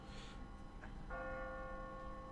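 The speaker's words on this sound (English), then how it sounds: "what kind of church bell goes off at 20 past the hour?" Church bell in The Walking Dead video game, heard faint and distant as a single resonant toll that rings out and hangs in the air.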